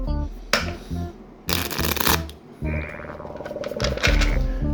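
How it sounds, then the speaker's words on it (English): A tarot deck is shuffled up close, with bursts of riffling card flutter and soft slaps of the cards coming together, repeated several times over a few seconds. "let's do a shuffle here real quick"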